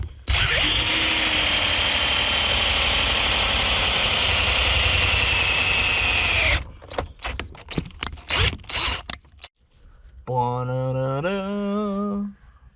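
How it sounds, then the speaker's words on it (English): An LS-swapped Ford Foxbody engine idles with a loud, steady drone, then breaks into a run of sharp clunks and knocks as gears are shifted, ending with a short rising rev. "Go through the gears, Caleb."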